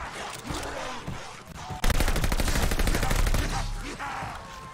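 Rapid automatic gunfire in the Call of Duty: Vanguard zombies mode, a sustained close burst of shots rattling for a couple of seconds amid other game sounds, with no talk over it.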